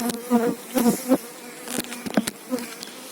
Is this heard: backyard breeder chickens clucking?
no